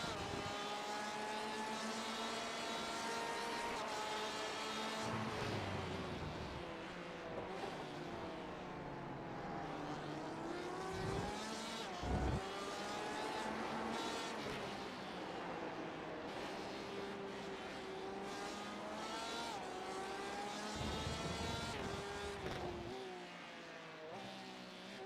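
A Porsche race car engine drones in iRacing at night during a 12-hour endurance race at Catalunya, a continuous layered whine with rising and falling pitch as it shifts gears, under other cars' engines.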